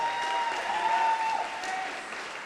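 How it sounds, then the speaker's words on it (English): Wedding guests at a reception in the National Arts Centre in Ottawa applaud the newlyweds during the speeches: dense, steady clapping from a large room that swells and then slowly tapers off, with no talking over it. "can we give a round of applause to the newlyweds?"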